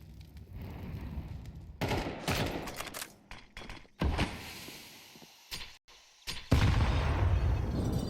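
Gunfire bursts and a grenade blast ring out during a Counter-Strike competitive match, several sharp, loud bursts separated by short gaps, then a heavier rumbling burst near the end.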